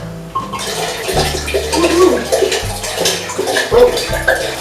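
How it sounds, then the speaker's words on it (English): Wine pours steadily from a bottle into a pot, a loud close glugging splash that continues for several seconds. "We're gonna add in second bottle of wine and I'm gonna pour it."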